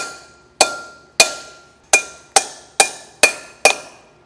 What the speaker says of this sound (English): let's start hammering it in.